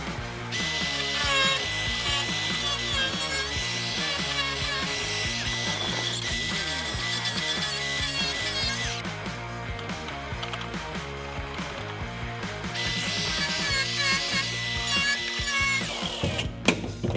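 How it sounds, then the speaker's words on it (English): A power tool grinds and whirs against the metal of an early second-generation Camaro center console, harsh and close, in rapid rattling bursts with brief pauses. "I've got a little bit to grind down there"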